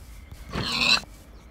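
A single Minecraft pig squeals once, a short grunting oink of about half a second, close and clear against quiet game background.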